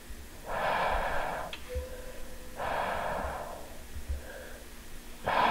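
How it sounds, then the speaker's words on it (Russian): Heavy, labored breathing with puffing, snort-like exhalations comes in long rhythmic bursts, close and fairly loud, set in an eerie Backrooms-style horror setting with no talking. "Кто-то пыхтит."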